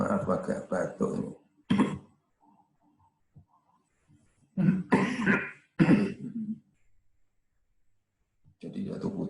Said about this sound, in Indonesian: maaf agak batuk ini.